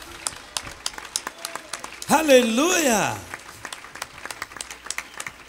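Scattered claps and applause from a church audience run throughout, while someone shouts an exclamation in Spanish over them partway through.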